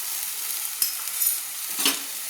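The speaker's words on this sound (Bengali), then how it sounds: "এবার ভালো করে আমি মশলাটা কষিয়ে নেব।" Spice masala of turmeric and chili powder frying in hot oil for ghugni, a steady close sizzle broken by two brief stirring scrapes, with no talking.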